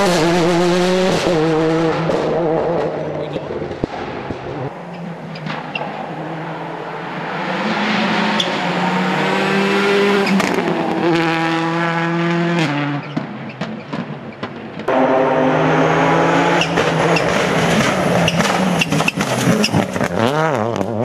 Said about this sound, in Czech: Jede další auto!